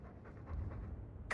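A Mabari war dog pants in Dragon Age II, a steady run of soft, close breaths with no talking over it.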